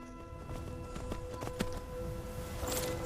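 Horse hooves clip-clop in Skyrim, a soft, rapid patter of a horse arriving at a trot, heard faintly under steady game music with no talking.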